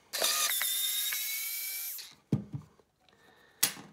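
A power screwdriver spins out a side screw on a pottery-shard floor project: one sustained high whirring burst of about two seconds, close and loud, followed by a few short clicks and knocks and a brief final buzz.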